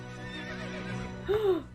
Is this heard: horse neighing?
yes